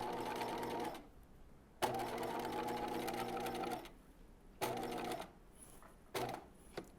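Sewing machine stitching across the short edge of a skirt, running in several bursts of steady rapid whirring, each a second or two long and separated by quiet pauses, with a click where one burst starts.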